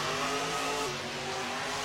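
Grave Digger monster truck engine in Rigs of Rods, a loud sustained engine roar with a steady droning tone, alone without talk.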